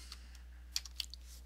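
Light keystrokes on a computer keyboard, a few soft scattered clicks, faint and close over a steady low hum, with no voices.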